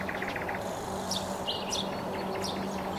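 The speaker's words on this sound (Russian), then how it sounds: "Пение птиц." A nightingale sings outdoors in short bursts of bright, sharp chirps and trills over a steady background hum, moderately close, with no voices.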